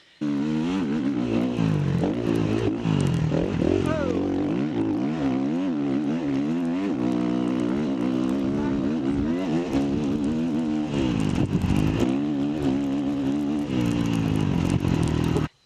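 KTM 690 Enduro R motorcycle engine revving and climbing through gears after a small jump on rough trail, loud, steady and close with rising and falling pitch sweeps.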